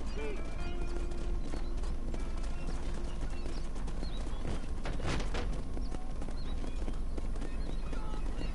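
Video game horse hooves pulling a stagecoach clip-clop steadily at a walking pace, close by, with a brief whinny and faint chirping in the background.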